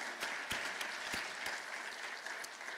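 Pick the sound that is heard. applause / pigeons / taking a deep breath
applause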